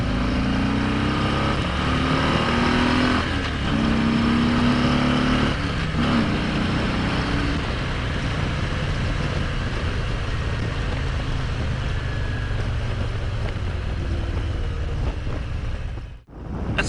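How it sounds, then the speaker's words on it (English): A 2018 Harley-Davidson Ultra Limited with its Milwaukee-Eight 107 V-twin pulling away from a stop sign, a loud, close throbbing engine roar rising with gear changes and buffeted by wind noise, heard alone. "That's the sound of the 107 Milwaukee 8."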